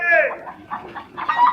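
A chicken clucks and squawks in a short burst of rising, choppy calls, close and fairly loud.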